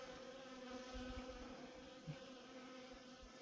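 Honeybees swarm around a hive frame pulled out during a winter inspection, a faint, steady drone of buzzing with slight wavering and no talk.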